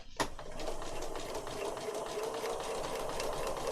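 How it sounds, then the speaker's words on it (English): Sewing machine stitching along an inked line on a junk journal page, a steady continuous mechanical whir after a brief start, close and moderately loud, with no talking. "It's a good guide when you're sewing to have inked a line."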